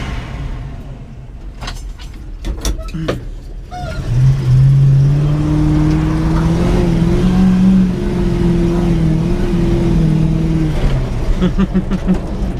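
A stuck truck in 2-wheel drive revs and spins its wheels. Clunks and knocks come first, then the engine climbs to a loud, sustained whining rev that holds for several seconds before easing off.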